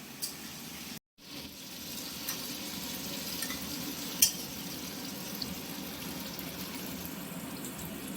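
Fried pangas fish is stirred into a spice paste in a pan, giving a soft, steady sizzle with faint scraping. It is broken by one brief silent gap and a single small clink.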